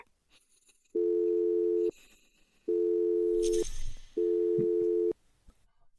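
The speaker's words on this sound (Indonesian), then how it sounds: "Aku akan menelepon nyonya besar" Three long, steady electronic ringback tones sound on a phone call, each about a second long and separated by short pauses, loud and clear with faint background noise between them.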